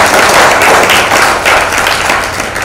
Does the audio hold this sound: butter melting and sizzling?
no